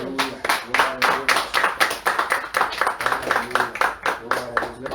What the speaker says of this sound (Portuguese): Se você pode aplaudir ao Senhor.